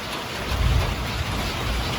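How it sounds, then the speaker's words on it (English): Thunder rolls in a brief, low rumble during steady, hissing rain that falls close by throughout. "hear that thunder"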